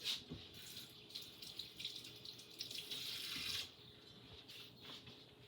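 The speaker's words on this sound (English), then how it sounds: "Rinse my hand off." A kitchen tap runs as a hand is rinsed under it while cooking mushrooms in red sauce, making a steady, moderately quiet splashing stream that eases off near the end, with no voices.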